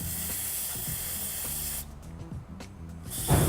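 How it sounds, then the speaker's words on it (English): Carburetor cleaner sprayed onto greasy skateboard wheel bearings: one steady, loud aerosol hiss running about two seconds, a short pause, then a second close burst starting. "spray some carburetor cleaner all over the balls to clean all of the grease out of them"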